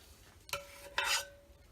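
A big spoon scoops hot process aloe and cucumber soap, giving two quick, close scraping clinks against the pot with a faint ringing tone.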